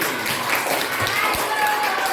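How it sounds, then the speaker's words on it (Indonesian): A classroom full of students clapping for a classmate named Suryani, a steady patter of many hands at moderate volume, with faint voices mixed in. "Tepuk tangan dulu untuk Suryani."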